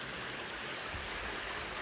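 A small, pretty creek runs steadily over a bedrock shelf at a gold prospecting spot in New York, a soft, even rush of water heard alone and constant throughout.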